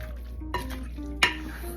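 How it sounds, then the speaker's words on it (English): A utensil stirs jerk seasoning through Rasta Pasta in a pan, with a steady low hum beneath, soft scraping, and two sharp clinks of metal against the pan. "I'm gonna mix this up."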